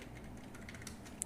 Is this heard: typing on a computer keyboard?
yes